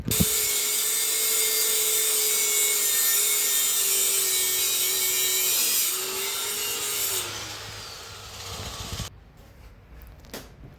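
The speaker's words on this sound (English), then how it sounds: "so we've resorted to angle grinder now to remove the downpipe." Angle grinder cutting through the exhaust downpipe of a 2C-T diesel Corolla during an engine removal, a loud sustained abrasive whine for about seven seconds that then fades and stops, with no talking.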